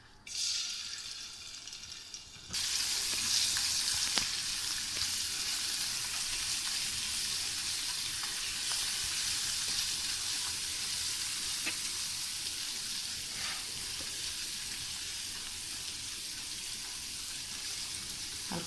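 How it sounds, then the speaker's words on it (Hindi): Garlic ginger paste hits hot oil in a pan and sizzles loudly. A steady, bright crackle runs throughout with occasional stirring scrapes. "हल्का सा हम इसे फ्राई करेंगे बस"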